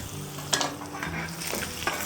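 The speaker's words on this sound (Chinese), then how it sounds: "油温已经很高了哈，我们把姜放下去" Ginger hits very hot oil in a wok and crackles with a steady, close sizzle, broken by a few sharp spits and stirring clicks.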